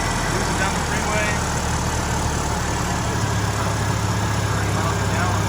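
A 1987 Ford Mustang notchback's engine runs with a steady, continuous low rumble and broadband road and cabin noise while cruising, loud and unbroken throughout.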